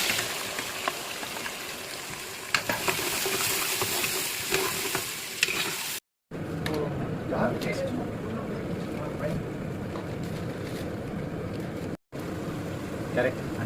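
Onions frying in a pan with green chilli and spices, a steady broadband sizzle with occasional stirring clatter, running continuously with two brief cutoffs.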